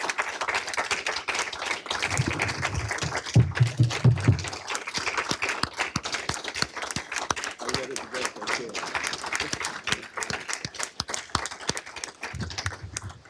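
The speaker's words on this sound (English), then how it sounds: "we'll give you a clap." Audience applause at a McLean County Board meeting, a steady round of clapping from many hands filling the room for several seconds, with murmured talk mixed in.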